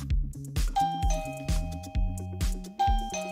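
A LINPTECH LP100SW wireless battery-free doorbell chime rings out a repeating multi-tone melody several times, clear and close, triggered by its button held underwater.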